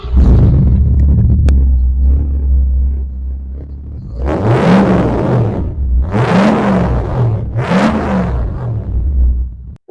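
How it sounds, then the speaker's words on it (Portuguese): A Ford Maverick V8 with a Quadrijet carburetor idles with a deep rumble, then revs three times in quick bursts, each rising and falling back to a loud, throbbing idle. "Agora a gente vai ouvir então o motor desse Maverick Quadrijet"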